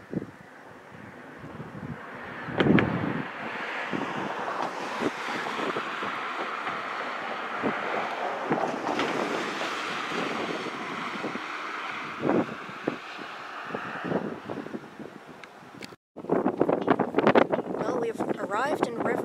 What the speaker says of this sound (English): I don't know if you can hear me because the wind is pretty strong